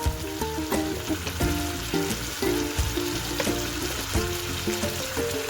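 Ginger garlic paste frying with chicken in a hot pan, a continuous sizzle broken by repeated scraping strokes of a spatula, close and fairly loud.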